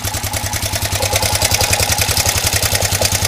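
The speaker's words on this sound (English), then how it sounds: "I'm going to start the engine and see how it sounds." Car engine starting and running with its belt removed, a steady rhythmic mechanical clatter and rumble with a pulsing idle beat, loud and close throughout.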